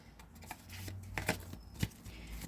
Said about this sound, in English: Let's see this card flipped over